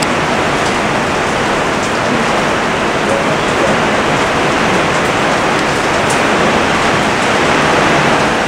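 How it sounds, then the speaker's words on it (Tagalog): Heavy rain pours steadily during a typhoon, a dense, loud, unbroken roar of downpour with no voices. "Ang lakas ng ulan."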